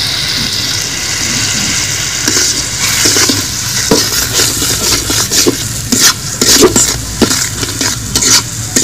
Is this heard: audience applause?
no